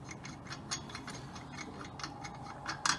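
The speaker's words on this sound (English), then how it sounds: "Install the removal tool." An Alba Racing clutch removal tool is fitted onto the primary clutch of a Can-Am X3. Faint, scattered metallic clicks and ratchet-like ticks sit over a low steady background, with a sharper clatter near the end.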